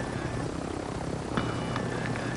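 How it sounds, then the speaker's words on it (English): A helicopter in the video game Warzone 2.0 drones steadily with a dense rotor and engine rumble, with a few faint clicks and thuds on top and no talking. "Oh, helicopter!"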